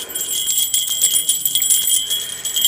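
Small bells jingle softly and steadily, a bright tinkling shimmer close by with no talking.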